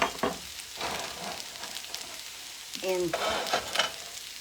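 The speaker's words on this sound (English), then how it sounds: "What I'm doing now is I'm browning them." Salmon patties browning in a hot pan, a soft close sizzle running underneath with a few stirring touches, while a person speaks over it.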